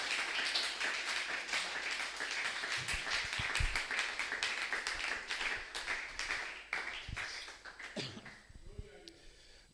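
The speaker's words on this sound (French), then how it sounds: "Acclamez pour le Seigneur d'abord" Church congregation clapping in a dense, continuous burst of applause, loud and sustained with voices mixed in, fading out near the end.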